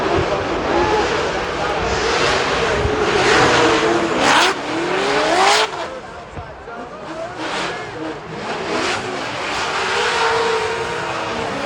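Drift cars battle at Formula Drift Long Beach 2024, engines roaring and screaming through revs with tire noise, loud and continuous, while a commentator talks over the action.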